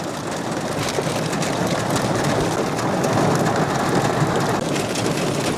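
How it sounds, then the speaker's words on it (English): Heavy rain pouring down on a wild campsite at night, a loud, dense and continuous hiss of drops beating on surfaces, with no voices. "Then the rain arrives, and it doesn't ease in. It comes down hard and fast"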